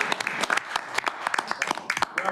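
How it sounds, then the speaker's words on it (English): A Metropolitan Council meeting room breaks into applause, a small group clapping in uneven bursts with distinct individual claps. "We're applauding in anticipation of a favorable vote."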